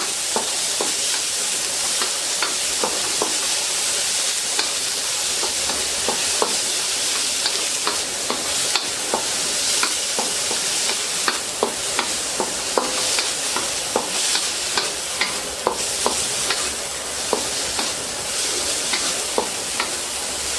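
Onion leaves sauté in a hot pan for vegetable lumpia, a steady close sizzle and hiss broken by frequent scraping, clicking stirs of a utensil against the pan, with no talking.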